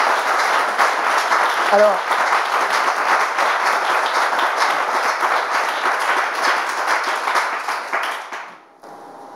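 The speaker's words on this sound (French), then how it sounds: "on peut applaudir l'intervention du pasteur" A French-speaking audience applauds a pastor's intervention in dense, steady clapping that carries on for several seconds before stopping abruptly, with a brief spoken word near the start.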